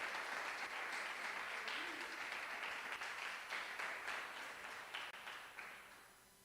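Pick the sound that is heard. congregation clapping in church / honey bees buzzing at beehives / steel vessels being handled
congregation clapping in church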